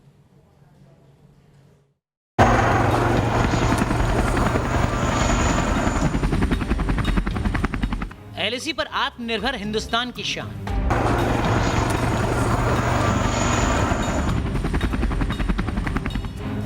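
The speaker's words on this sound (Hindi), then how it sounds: "हिंद का LCH दुनिया का सबसे हल्का कॉम्बैट हेलीकॉप्टर है" An LCH light combat helicopter, the made-in-India light attack machine, roars loudly with steady rotor and turbine noise, joined by a brief rapid burst of gunfire midway, while someone narrates over it.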